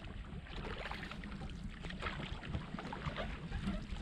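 A canoe paddle pushes through thick lily pads on Cuddy Creek in the Quetico wilderness, giving soft repeated swishes and watery strokes over a low rumble of wind on the microphone, close and fairly quiet.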